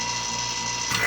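Vacuum pump on a laboratory vacuum rig running steadily, a loud close mechanical whir with a rapid ratcheting rattle that holds evenly throughout, alone without talk.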